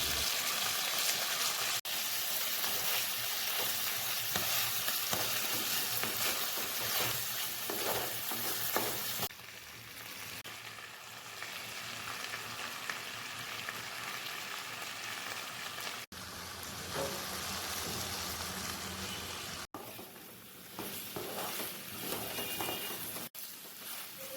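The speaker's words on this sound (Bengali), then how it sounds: "গোলমরিচের গুঁড়োটা দেওয়ার পর কন্টিনিউয়াসলি এটা নাড়িয়ে যেতে হবে, যাতে মশলাটা পুড়ে না যায় বা লেগে না যায়।" Mutton being stirred with black pepper powder and spices in a pan, a steady sizzle with scraping spatula strokes running continuously and close, the texture shifting slightly partway through.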